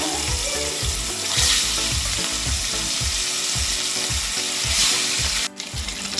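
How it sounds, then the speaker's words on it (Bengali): Salted, turmeric-coated catla fish frying in mustard oil in a wok over low to medium flame, a loud crackling sizzle with rhythmic low thuds and a sudden brief clatter near the end. "এবার আমি কড়াইতে তেল গরম করে মাছটাকে ভাজবো।"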